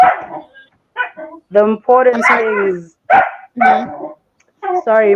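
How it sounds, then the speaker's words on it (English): A small dog barks in short, sharp bursts close by, several yaps interrupting people talking over it. "Yeah, that's my dog. She's a little bit loud sometimes."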